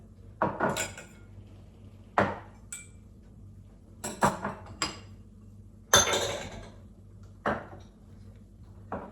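Repeated sharp clinks and clatters of shot glasses, tumblers and cups being taken out and set down, in irregular bursts with brief pauses between.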